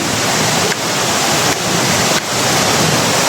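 A tall waterfall of about 120 feet, reached by a solid concrete bridge, roars steadily and loudly up close as a dense, unbroken wash of falling water with no voices.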